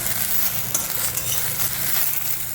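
Dough knots fry in a pan with a steady, bright sizzle and occasional stirring scrapes, close and continuous with no voices.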